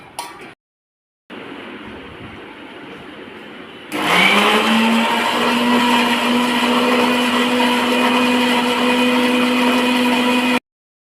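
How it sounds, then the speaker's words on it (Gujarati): A kitchen mixer grinder blends red chili chutney. A quieter whir is followed by a pause, then the motor spins up into a loud, high, steady whine that runs for about seven seconds before stopping abruptly. "મમ્મીએ આ ચટણી મિક્સરમાં પીસી નાખી છે, લાલ ચટણી"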